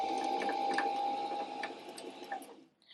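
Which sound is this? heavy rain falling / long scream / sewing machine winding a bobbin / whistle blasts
sewing machine winding a bobbin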